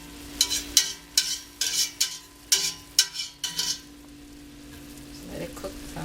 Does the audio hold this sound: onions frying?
yes